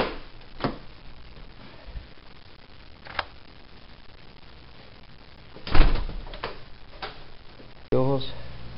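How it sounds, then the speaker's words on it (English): A door tried and opened during a home inspection, a few sharp knocks and clunks of the latch and frame spread over quiet room tone, with a louder thump and a final rattling scrape. "Let's see if this door opens. And it does."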